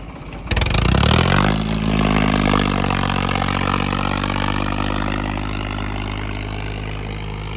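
A 1999 Farmtrac 50 tractor pulls an 18-disc harrow in second gear. Its engine kicks in loud within the first half-second, then holds a heavy, steady low drone that eases slightly toward the end.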